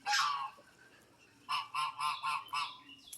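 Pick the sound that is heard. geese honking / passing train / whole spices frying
geese honking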